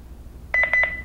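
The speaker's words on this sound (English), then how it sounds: "You would put it to the sensor, move it away, it beeps once" A Honeywell 5818MNL magnetic door/window sensor, enrolled to an L5100 security panel, gives four quick, evenly spaced electronic beeps followed by a brief steady tone, clear and close against quiet background hum.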